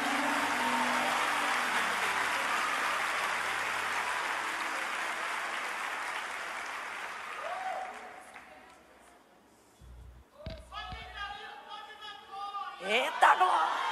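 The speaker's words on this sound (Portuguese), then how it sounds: "Se um aplaudir, tu aplaude" A church congregation breaks into sustained applause that fills the room, then fades out, followed by people talking and a few laughs.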